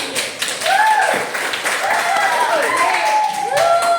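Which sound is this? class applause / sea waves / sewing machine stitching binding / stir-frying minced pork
class applause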